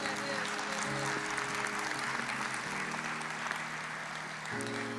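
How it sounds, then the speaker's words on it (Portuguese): A church congregation applauds to praise the Lord after a sermon prayer, a steady wash of many hands clapping over five seconds with a sustained tone from music or an organ underneath. "Vamos aplaudir ao Senhor."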